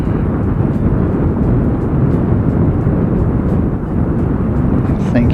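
A Qantas airliner arrives from Sydney, its engines a loud, steady, broadband roar that holds without a break from start to finish, with voices faintly underneath.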